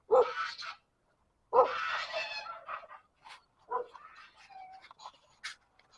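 Village dogs bark a few times, two strong barks followed by scattered softer yips and whines, moderately close, with a faint bird call in the background.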